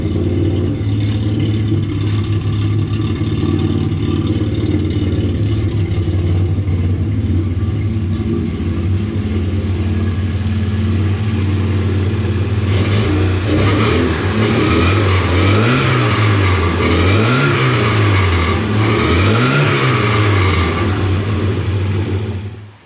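A 1977 Porsche 924 race car engine runs steadily and loudly up close, a low rumbling idle that later rises and falls in several rhythmic revs before cutting off at the end.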